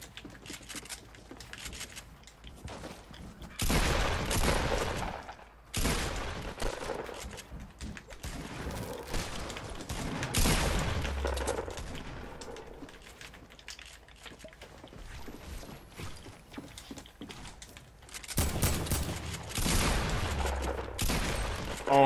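AK gunfire in Fortnite, rapid bursts of automatic shots in several clusters with quieter clicking and game mechanics between them.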